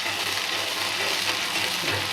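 Black cumin seeds (kalonji) frying in hot oil, a steady close sizzle with a bright, even hiss throughout.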